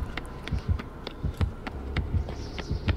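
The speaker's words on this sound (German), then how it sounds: "Ich hab die ganze Zeit Herzschlag." Heartbeat of an approaching killer in the horror game Dead by Daylight, a steady pulsing double thump repeating about twice per second under a low hum.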